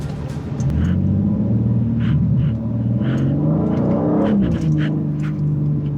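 A BMW M2 G87 with its 353 kW S58 engine revs and rumbles close by, deep pitch swells rising and falling in rhythm, with a voice heard over the engine.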